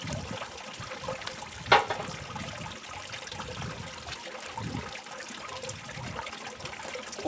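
Water washing across ripples in a diamond-catching sluice at the end of an oversized discharge, a steady moderate trickling flow with a brief louder splash partway through, no voices.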